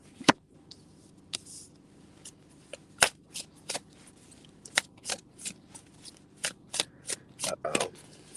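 Tarot cards being shuffled by hand in a series of crisp riffling bursts and slaps, close and fairly quiet, with irregular pauses between handfuls and no talking over them.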